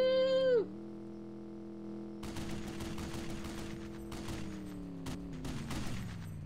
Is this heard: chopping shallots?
no